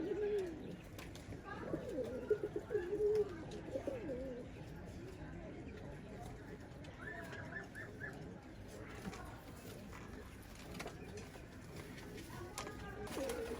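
A pair of pigeons, a male and his female, give soft repeated coos over a steady background, loudest near the start and then fainter and intermittent, with some talking mixed in.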